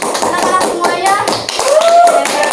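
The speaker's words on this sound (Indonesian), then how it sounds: "terima kasih untuk boleh diberi tepuk tangan anak-anak semuanya" Students in an eighth-grade classroom clap together during a microteaching lesson, a brisk run of close hand claps with children's voices chattering over it throughout.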